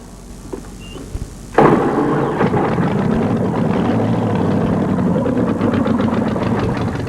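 A pulling tractor engine at a 1988 truck and tractor pull in Atlanta catches and roars to life, a loud sustained rumble with uneven throbbing after a few faint thumps.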